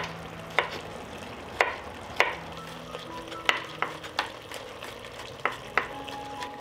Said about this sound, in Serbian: Dok se šnicle prže sa druge strane